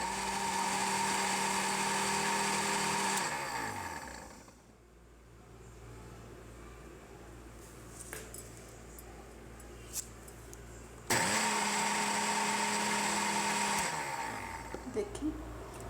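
A kitchen blender whirs at high speed, mixing homemade mayonnaise with lemon juice. It runs loud and steady, cuts out for several seconds of quiet, then starts up again.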